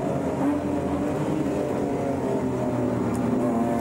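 BMW E30 race car at Manfield, heard onboard through a tricky corner, its engine a loud, steady droning roar with little change in pitch.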